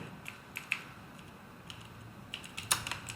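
Keys on a computer keyboard are typed while entering text into an MS Excel spreadsheet, giving a scattered series of light, close clicks.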